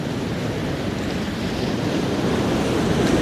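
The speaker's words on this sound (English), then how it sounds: "So everyone listen to the waves" Waves break steadily on a Norfolk beach in November, a continuous close wash of surf mixed with wind buffeting the microphone, building slightly louder toward the end.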